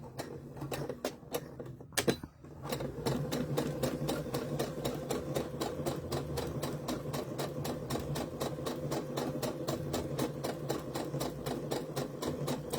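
A sewing machine runs steadily, stitching a seam in a doll dress with rapid, even needle strokes. A brief pause comes near the start, then continuous loud whirring chatter.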